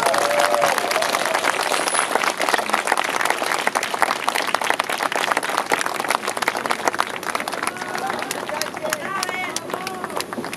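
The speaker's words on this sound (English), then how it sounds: "Big round of applause," Sustained audience applause fills a memorial unveiling ceremony in San Francisco, a dense, steady wash of clapping from a large outdoor crowd with cheering and some murmured voices mixed in.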